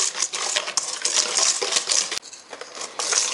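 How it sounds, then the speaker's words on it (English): Wire whisk beating egg yolks and sugar by hand in a bowl, a steady rapid scraping and clinking rhythm up close, with a brief pause partway through. "start whisking them by hand"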